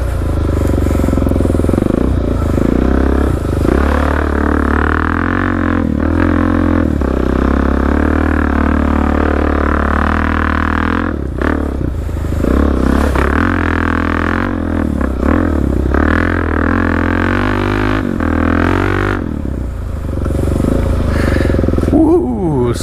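Suzuki DRZ400 dirt bike with a Black Widow exhaust revving repeatedly on a muddy trail, loud and close, its engine note rising and falling in bursts over continuous rumble.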